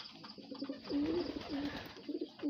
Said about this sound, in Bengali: আমার ফার্মের অনেক কিউট একটা কবুতর